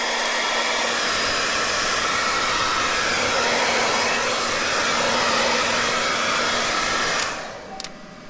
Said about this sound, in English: So something you could take is a battery like this and a hairdryer. So let's just get this on.